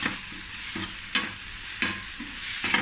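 A homemade sambar powder mixture is stirred in a pan, with four sharp scraping strokes at a steady pace over a soft, continuous sizzle.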